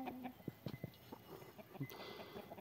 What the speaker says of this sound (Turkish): Horoz horozu kovalıyor